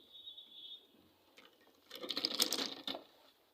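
Sewing machine running a straight seam along a folded half-inch hem on a short gown, a quiet whirring burst of stitching with a few soft clicks, close and steady, no talking.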